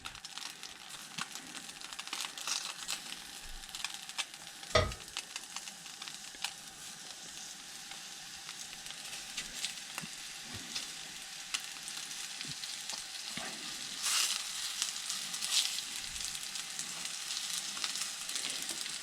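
Venison for stew sizzles and spatters in a new Lodge 10.5-inch cast iron skillet, a steady crackling hiss with occasional sharp pops and scraping stirs, fairly quiet and with no voices.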